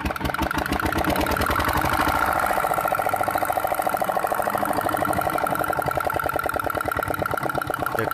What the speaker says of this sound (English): The diesel can turn on.